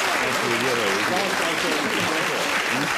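A studio audience at a 1979 television panel game applauds both teams, a dense continuous wash of clapping with a voice talking over it throughout.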